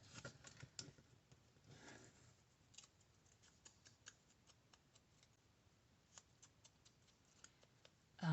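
Scissors snip around a paper bird cutout for a handmade tag, a quiet run of small, crisp clicks and cuts at close range with no talking.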